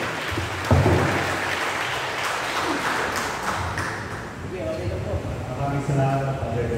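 A church congregation claps for the Lord during a soaking prayer gathering, a dense, steady wash of hand claps sustained throughout with voices mixed in beneath.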